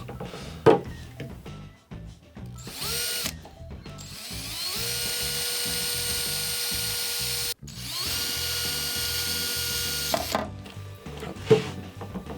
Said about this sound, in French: Muni de notre perceuse, nous allons maintenant faire 2 trous de chaque côté.